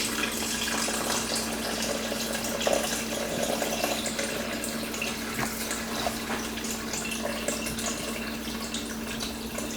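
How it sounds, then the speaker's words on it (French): Water pours steadily into a pot of risotto cooking with white wine, olive oil and butter, a continuous close splashing fill with a faint hum underneath and no talk. "Et donc maintenant, on va rajouter de l'eau. 700 g d'eau."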